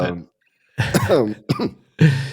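A voice coughs several times in short, harsh bursts separated by brief pauses, close and fairly loud, with a throat-clearing rasp.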